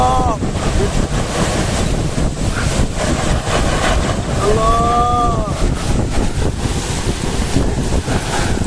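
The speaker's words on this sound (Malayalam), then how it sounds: "അയ്യാതി കാറ്റ് മക്കളെ അയ്യാതി കാറ്റ് കാറ്റ് കൊടും കാറ്റ്" Strong stormy wind on the Kerala coast roars and buffets the microphone in constant gusts, with a surf-like wash throughout and a couple of brief tonal whistles or calls over the noise.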